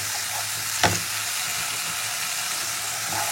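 Cumin and green chilli paste frying in a hot pan as the base for a Bengali fish curry, a loud close sizzle and hiss that stays steady, with one brief clatter near the start.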